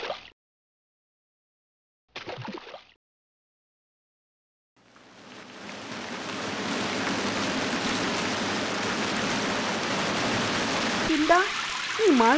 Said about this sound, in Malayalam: ഈ മഴ ചോരുന്ന ലക്ഷണമില്ലല്ലോ.